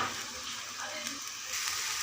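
A pan of jaggery mixture for an orange peel recipe bubbles with a dense, even hiss and crackle, close and continuous, with no one talking.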